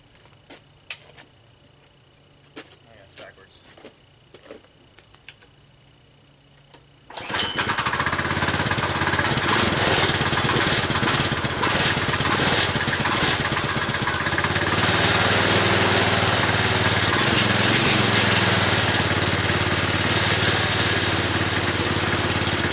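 A home-made shifter kart engine bursts into life after several seconds of quiet clicks and handling noise, then runs steadily at a high idle, loud and close with a buzzy, rattling drone that holds to the end.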